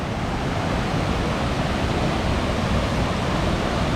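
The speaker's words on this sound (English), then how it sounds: "there's all these rapids here" Rapids of a creek near waterfalls on the Larch Mountain trail make a loud, unbroken roar of white water, close and constant with no voices.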